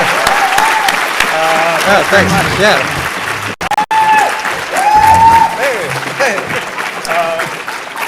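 Convention panel audience applauding Adventure Time lead writer Kent Osbourne, loud sustained clapping and some cheering, with a host's voice speaking over it and a brief dropout midway.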